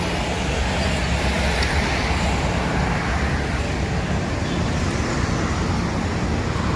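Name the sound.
morning road traffic in Palembang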